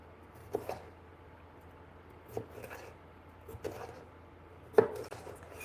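A knife slices vegetables on a cutting board in a home kitchen, making a few soft, separate chops spaced a second or two apart over a quiet background.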